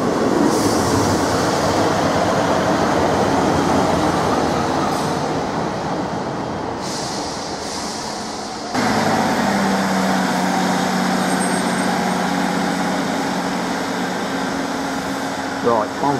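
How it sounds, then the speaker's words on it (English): A Class 153 diesel unit, number 153335, pulls away from a station bound for Ipswich, a steady broadband rumble with a sharp drop in level midway as it moves off and fades into the distance. "153335 has departed, continuing its journey to Ipswich. There it goes into the distance."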